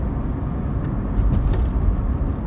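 A mk2 Vauxhall Cavalier 1.8i GLSi on a quiet road, heard from inside as a steady low engine drone and road rumble, even and continuous with a slight swell midway, no talk.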